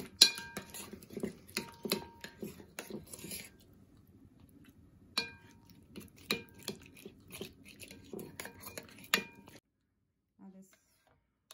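A spoon stirs a yogurt marinade with spices in a bowl, giving bursts of close clinks and scraping knocks in an uneven rhythm, then a brief lull before the clatter picks up again and falls quiet at the end.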